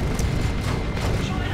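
Space Marine Devastators opening fire in a Dawn of War II: Retribution match, heavy booming shots and blasts rumbling loudly under a commentator's continuous voice.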